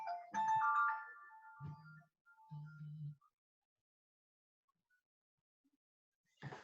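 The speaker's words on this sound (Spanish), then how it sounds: "Se me coló ahí el teléfono." A phone ringtone goes off during a recorded online construction class, a short tonal melodic burst followed by a few lower beeps, then silence and a brief noise at the end.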